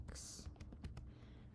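Typing on a computer keyboard while entering text in an Excel text box, a quick run of soft, close key clicks at low volume with faint background hiss.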